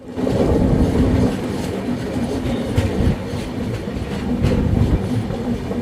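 A train arriving at Umaria railway station rumbles loudly and steadily nearby, with rhythmic wheel clatter and rolling noise throughout.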